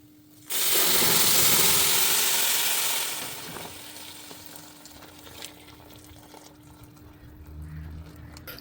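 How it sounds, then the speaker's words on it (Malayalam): Hot water poured onto roasted rice in a hot pot gives a loud sudden burst of hissing sizzle that lasts a couple of seconds, then settles into a quieter bubbling simmer with faint clinks. "അപ്പോൾ നമുക്കിനിയിപ്പം ആ വെള്ളം ഇതിലേക്ക് ഒഴിക്കാം"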